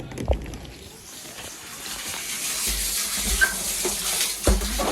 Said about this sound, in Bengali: জল এসছে